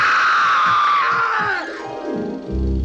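From the old horror film The Tingler, a man lets out a loud, high scream that wavers and then falls off, ending in a low thud or rumble.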